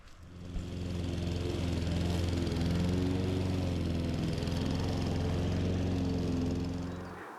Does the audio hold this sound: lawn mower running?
yes